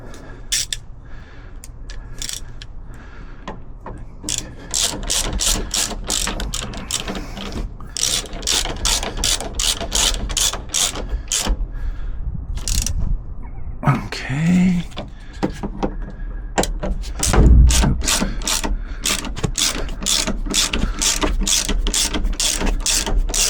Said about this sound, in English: Let's go ahead and tighten up the front ones.